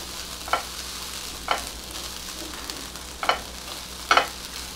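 Grated coconut and browned onion being sautéed in a pan for kaju masala, with a soft, steady sizzle under four distinct spatula scrapes spaced about a second apart, close and quiet, no voices.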